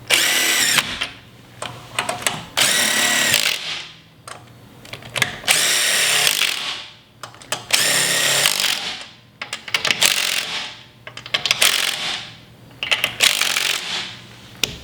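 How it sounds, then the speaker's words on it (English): Impact gun tightening wheel lug bolts, firing in repeated loud bursts of rattling hammering, each a second or two long, with short pauses between, close up. "I'm going to grab my impact gun and tighten this up"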